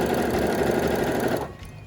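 A sewing machine runs fast stitching fabric for a quilt block, a close, steady mechanical whir that stops abruptly near the end, leaving quiet room tone.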